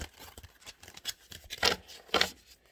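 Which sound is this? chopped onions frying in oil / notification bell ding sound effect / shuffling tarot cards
shuffling tarot cards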